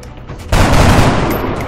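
Gunfire from the video game XCOM: Enemy Within bursts in after a short quiet stretch, a loud rattling volley that sustains and slowly fades, with no talk over it.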